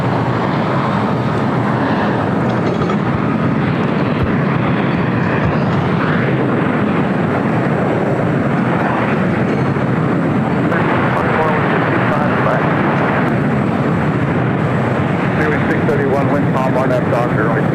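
A plane taking off from runway 25 Right at LAX: a loud, continuous broadband roar that holds steady throughout, with voices in the background.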